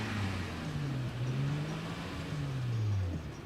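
A car engine fitted with an optional sport exhaust revs loudly and close, its deep droning tone rising and falling through several revs with no pause and no voices.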